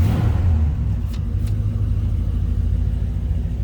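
A 1968 Buick Electra 225 Custom engine runs at a steady idle, a loud, close low rumble with a brief rev at the start, then an even throb with no voices.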